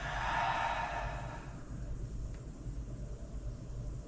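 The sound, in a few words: open-mouth exhale during yoga breathing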